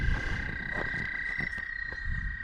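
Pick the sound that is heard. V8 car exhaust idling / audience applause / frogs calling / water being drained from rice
frogs calling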